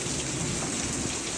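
Heavy rain pours steadily during a windstorm in Abilene, a dense, even hiss with no pauses and no voices, close and loud throughout the short stretch.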